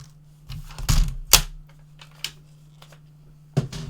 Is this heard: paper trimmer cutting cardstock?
yes